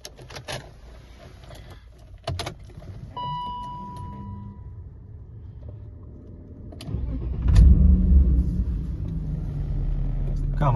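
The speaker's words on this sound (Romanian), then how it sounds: "Cam așa pornește mașina." A BMW E39 528i car engine cranks and starts, catching with a louder surge of low rumble that settles into a steady idle, heard fairly close.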